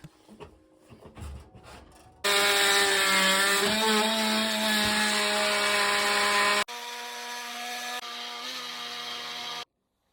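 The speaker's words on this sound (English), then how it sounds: "I'm gonna have to quickly grab the multi-tool and trim it down a little bit" Oscillating multi-tool trimming a kitchen worktop cutout for a gas hob: a loud, steady high-pitched buzzing drone with strong harmonics, running for several seconds, briefly dropping in pitch, then continuing at a lower level before cutting off, after some light handling knocks.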